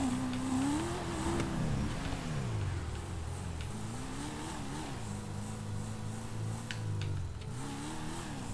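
Car engine in GTA 5 on PC, a Jester on a parkour course, hums and revs steadily throughout, its pitch rising and falling in smooth sweeps with a few faint clicks on top.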